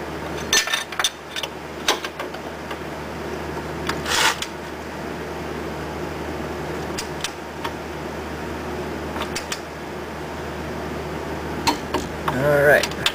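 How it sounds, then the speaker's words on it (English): A ratchet wrench turning a ball joint nut on a 3rd generation Ford Escort or ZX2 gives close, rapid ticking clicks in short bursts, mixed with metal handling noises and occasional talk. "So gotta use good old trusty wrench again."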